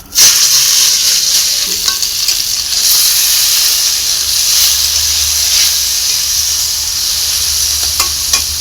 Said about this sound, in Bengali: তো বন্ধুরা এখানে তেল গরম হয়ে গেছে প্রথমে ঢ্যাঁড়সগুলো ভেজে নেবো